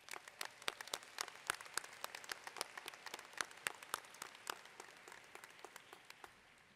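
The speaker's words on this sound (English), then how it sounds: "Please, could we have a round of applause for all the families?" Graduates and guests at a School of Management commencement applaud the families. The applause is quiet and distant, made of scattered individual sharp claps over a soft crowd wash, keeping on steadily for several seconds.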